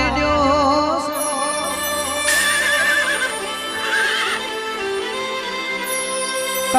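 A horse whinnies and hooves clip-clop inside a Gujarati devotional folk song, heard under steady singing and instrumental music, with a wavering neigh rising midway through.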